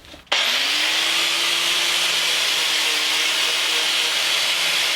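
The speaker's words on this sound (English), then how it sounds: "give it a coarse wire brush and then a coat of paint" A coarse wire brush scrubbing flaking paint off an alternator adjuster from an MG Midget, starting abruptly and continuing as a steady, loud, hissing scrape close by, with no pause or talk.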